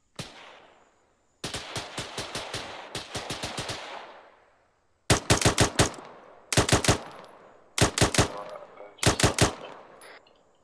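Bursts of automatic rifle fire in an ArmA 3 firefight, loud close volleys of rapid shots in repeated strings separated by brief pauses, echoing tails after each burst.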